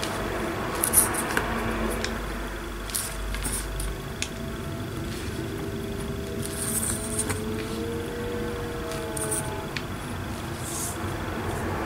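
Scissors snip steadily through paper, cutting out a figure for a steampunk letter journal page, with close, crisp clicks and rustles over a faint constant hum and no talk.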